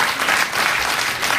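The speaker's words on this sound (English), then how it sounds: "I don't know if the audience are clapping because of that trick" Studio audience at a late-night talk show applauds after a magic trick, a steady wash of dense clapping filling the moment without any talk over it.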